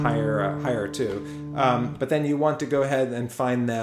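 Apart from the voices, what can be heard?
No everyday noise stands out behind the speech.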